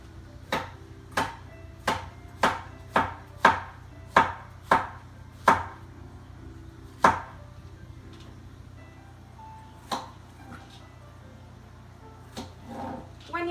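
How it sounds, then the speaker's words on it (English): Squash being chopped with a kitchen knife on a board, a run of about a dozen crisp, evenly paced chops that slow and thin out toward the end, close up over a low steady background hum. "I'm gonna use the same knife that I did for my onions on my squash"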